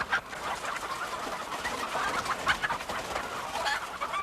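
Dense, continuous clucking and chatter of many egg-laying hens fills a large caged poultry shed, steady and close with overlapping calls and no voices.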